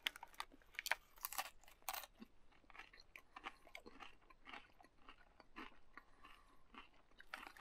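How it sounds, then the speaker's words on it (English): Crunchy chewing of Fritos corn chips with jalapeno, a close series of sharp irregular crunches and bites, quiet overall, with no talking. "Especially when you get the Fritos in there with that extra crunch and"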